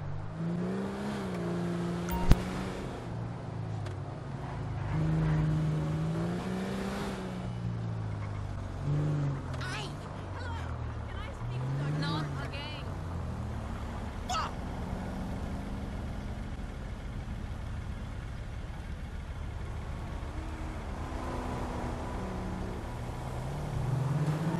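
A car engine hums and revs in GTA 5 while driving toward the gas station, a steady low drone with rising and falling pitch and a sharp click early on.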